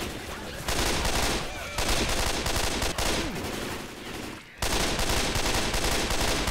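Rapid bursts of gunfire in Left 4 Dead 2 during a zombie horde fight, loud and nearly continuous with brief pauses, mixed with game noise and a voice talking over it.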